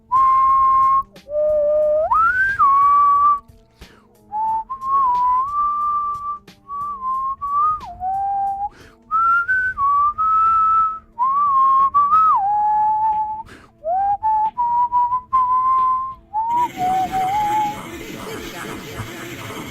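A person whistles a wandering, melodic tune in clear sustained phrases with short breaks, loud and close, ending under a burst of louder music or noise.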